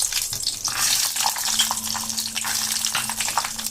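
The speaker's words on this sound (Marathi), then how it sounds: "हे बघा, हे दाणे आहेत, तळून घेऊ। त्याच तेलात तळून घ्यायचं" Peanuts deep frying in hot oil while making rice-flake chivda, a dense steady crackling sizzle with bright bubbling close by, running unbroken throughout with no voices.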